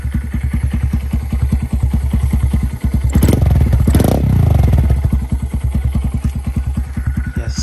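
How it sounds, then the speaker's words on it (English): A 2024 Honda Grom motorcycle with a Yoshimura exhaust and tune idles after a cold start with a steady, rapid exhaust pulse, rising into a brief rev partway through before settling back to a loping idle. "cold start right now. DHM tuned. Literally intake exhaust."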